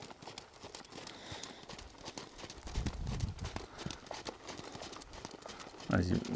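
Horse hooves clip-clopping on ground while working cattle, a quick-shouldered horse stopping a cow; irregular muffled thuds under steady talk, with a louder burst near the end.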